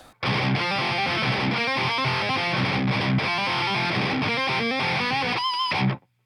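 Heavily distorted electric guitar plays a fast metalcore riff, with rapid rhythmic picking, brief stops and a final note that rings out before stopping.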